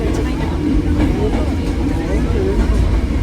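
A switchback train climbing up a mountain at Hakone, a steady rumbling rail drone with faint squeals, heard from inside the carriage with voices in the background.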